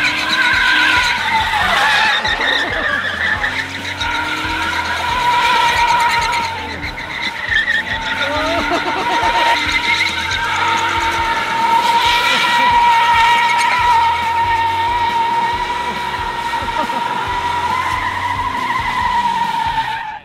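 A custom-built R/C Crown Vic spins donuts, its tires skidding and squealing in long sustained screeches over a buzzing electric motor whine, loud and close, with brief faint voices in the background.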